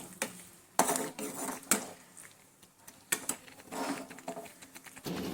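A spoon scrapes and clinks against a pan while paneer curry is stirred, a series of irregular metallic taps and scrapes at close range, moderately quiet, with no voices.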